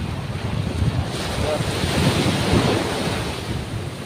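Loud, continuous roar of sea surf with wind buffeting the microphone, waves swelling and receding in a broad wash of noise.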